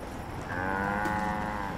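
Cattle in the video game Far Cry 5 let out a single long, close moo that swells and holds, alone over a low background hum.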